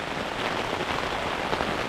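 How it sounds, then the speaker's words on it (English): Heavy rain pelts a camping tent at Gjende in Norway's Jotunheimen mountains, a dense, close, continuous drumming patter with no pauses and no voices. "it's raining cats and dogs since 20 minutes already"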